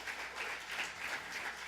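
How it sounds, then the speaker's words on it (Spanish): A church congregation applauds during a thanksgiving sermon, steady dense clapping from many hands, fairly distant and soft, with no break. "Dale el aplauso si quieres."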